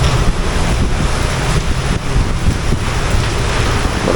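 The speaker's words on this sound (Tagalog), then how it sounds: "ang lakas ng hangin" Strong wind blows on a Boracay beach, a loud continuous roar of gusts buffeting the microphone with surf mixed underneath, constant throughout.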